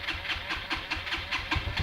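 A motorcycle engine hums during a ride, captured on a B-Pro 5 Alpha Edition Mark 3S action camera, with a faint, rapid, rhythmic pulsing over a low rumble.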